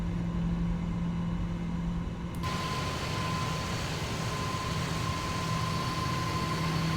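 Boeing 777 airliner climbing after takeoff from Punta Cana in a flight simulator, a steady low engine drone with a constant whine, a brighter broadband roar stepping in partway through, no voices.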